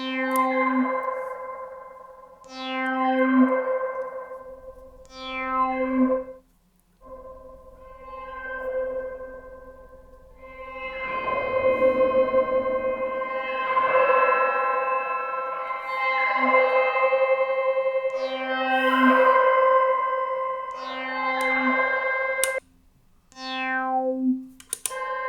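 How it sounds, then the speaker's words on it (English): Guitar notes run through a Gamechanger Light pedal's spring reverb with a sweeping modulation effect, giving a washy, echoing, steadily sustained texture with repeated plucked notes and no talking. "So we can now hear only the spring and bring back the sweep effect we have before."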